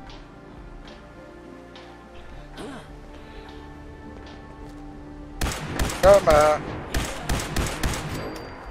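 Weapon fire in the video game Fallout 76: a quiet stretch with a short spoken line gives way to a loud, rapid string of gunshots with uneven, closely spaced reports that fill the final few seconds.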